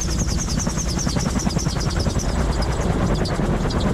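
A helicopter powers back to idle and flares for touchdown, its rotor making a loud, steady rapid chop close by with continuous engine whine throughout.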